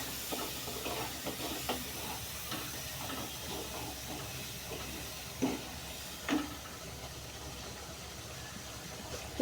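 Ground cumin and dried chili paste fry in a pan for a cauliflower curry, giving a soft, steady sizzling hiss with occasional faint stirring scrapes and two slightly louder clicks.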